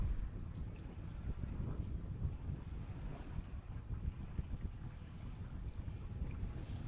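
Steady wind gusting over a Jeanneau 350 Sun Odyssey under sail as the breeze builds, a low rushing roar with faint water wash, close and continuous, with no voices.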